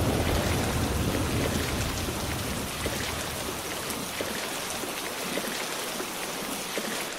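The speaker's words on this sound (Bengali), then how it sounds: "দেখছিস না বৃষ্টির কি তেজ?" Heavy rain pours steadily on a rainy day near a pond, a dense unbroken hiss with scattered louder drops and a faint low rumble, no voices.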